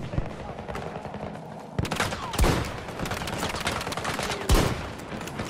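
Rapid bursts of automatic gunfire and sharp single shots crackle through a chaotic Battlefield 2042 Breakthrough match, with two loud close blasts standing out over continuous distant battle noise and occasional speech.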